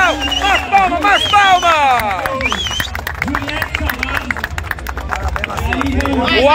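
Crowd clapping at a futsal cup trophy ceremony as the tournament's top scorer receives his trophy: scattered, uneven applause with chatter and voices over it, a public-address voice speaking on top.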